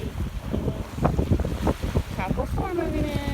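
Strong wind buffeting a microphone on a dock over choppy sea water at Captiva Island as a tropical storm approaches, with gusty low rumbles, irregular splashy bursts and some indistinct human voice mixed in.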